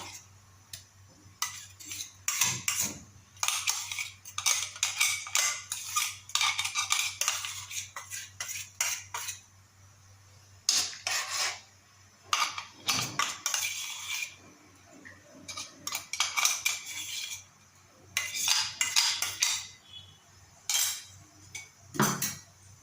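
A spoon scrapes and clinks against a pan as a black cumin and karpooravalli leaf mixture is stirred, giving repeated bursts of metallic scraping with short pauses between them, close and fairly clear with no talking.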